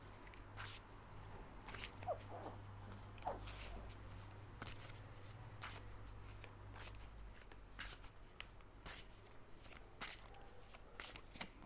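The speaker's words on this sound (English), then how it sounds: "I'm going to shuffle the cards" A deck of tarot cards is shuffled quietly and repeatedly, with soft riffling and light tapping clicks in a hushed room.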